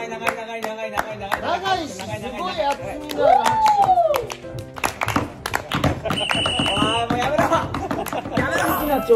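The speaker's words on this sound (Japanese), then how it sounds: "長い、 すごい厚みのある拍手。" A small group claps in sharp, uneven bursts among lively chatter, laughter and overlapping voices. The claps sound close and bright, mixed with the talk rather than forming one long ovation.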